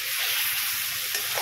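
Ginger, garlic and green chili paste with salt sizzles steadily in a hot pan for biryani, a loud continuous hiss with light stirring scrapes near the end.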